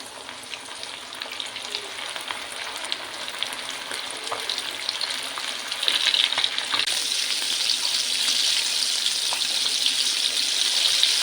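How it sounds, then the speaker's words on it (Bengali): Chicken pieces deep frying in hot oil over a low-to-medium gas flame, a steady crackling sizzle that grows louder and denser partway through as more pieces go in, close and continuous with no voices. "এবার আমি চিকেনগুলো দিয়ে দেব আস্তে আস্তে।"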